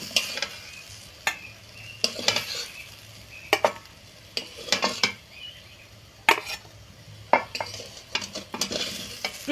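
Vegetable pieces fry in mustard oil in a kadai, giving a soft continuous sizzle. A spatula scrapes and clinks against the pan in irregular strokes close by as the pieces are turned.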